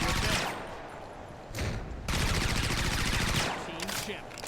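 Bursts of rapid automatic gunfire from the Blitz Brigade shooter game, loud rattling volleys separated by brief lulls, with a player's voice talking in the background.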